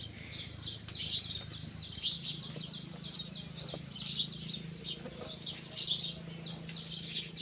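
Sparrows chirp busily nearby, a continuous chatter of quick tweets over a low background hum, with no talking.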